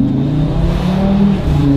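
A 500-horsepower Audi RS3 engine drones loudly from inside the cabin, a sustained low rumble holding steady as it revs and accelerates, with no talking.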